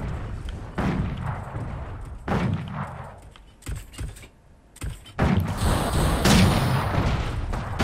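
Sniper weapon fire from a mech in the VR game Code51: Mecha Arena, heard as several sharp, loud bursts with gaps between them, some short and some sustained, with mechanical thuds and game noise in between.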